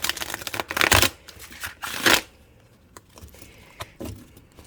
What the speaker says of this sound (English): All right, let's get it a good shuffle.